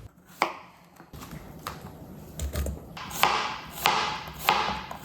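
A knife chops cucumbers on a cutting board for a Korean cucumber salad. The close, crisp knocks start sparse and then come faster and louder in a steady rhythm, with no voices.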